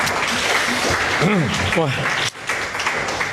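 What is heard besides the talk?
audience applause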